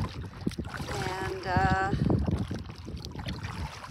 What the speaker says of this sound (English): it's been a great morning paddling out here on Temagami